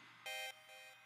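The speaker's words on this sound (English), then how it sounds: "like a toy, kind of like a toy piano-ish sound." Bright synthesized toy-piano-like tone built in FL Studio 9, played as two short sustained notes, the first louder, the second softer after a brief gap.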